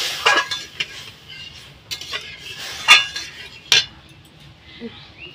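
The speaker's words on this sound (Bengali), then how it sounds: "আমি ডালের মধ্যে জল দিয়ে দিচ্ছি, দিয়ে ডালটাকে একটু ধুয়ে নেব।" Mung dal being washed in a pot: close clinking and scraping of a metal vessel and spoon in irregular bursts with faint water sloshing, no talking.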